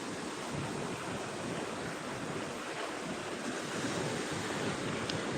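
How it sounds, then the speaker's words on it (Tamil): Sea waves crash and surge at Tiruchendur beach, a steady, loud roar of surf with wind buffeting the microphone throughout, no voices. "நம்ம வாய்ஸை விட கடல் சத்தம் அதிகமாக இருக்கும்"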